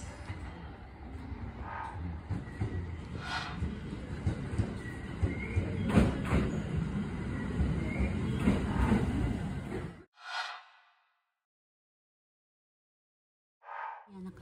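A train in Japan rumbles and clatters as it pulls into the station, steady rolling noise with thumps for about ten seconds, then silence and a brief sound at the end.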